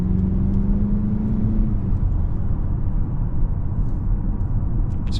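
A 2026 Mazda CX-50 Turbo with a four-cylinder engine accelerates, heard from inside the cabin as a strong, steady rumble with a rising engine note at first, settling into road roar.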